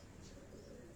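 A breeding pigeon coos softly and steadily, a faint low murmur at close range with no talk over it.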